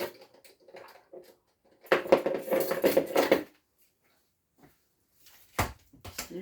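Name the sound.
spoon stirring scouse stew in a pot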